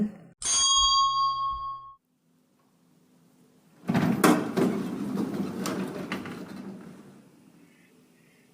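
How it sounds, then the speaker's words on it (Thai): A single bright elevator chime rings out at the top floor of an office, then after a short silence the doors slide open with a rumbling, hissing sweep that fades away. "เสียงลิฟต์ดังขึ้น และประตูเปิดออกในชั้นบนสุดของสำนักงาน"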